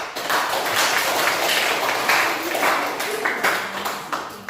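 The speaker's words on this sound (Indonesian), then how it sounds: "Mari kita berikan tepuk tangan untuk Jaya." A group in a Catholic religion class claps for a presenter named Jaya; a continuous, moderately loud patter of many hands runs the whole time, with a little talk underneath.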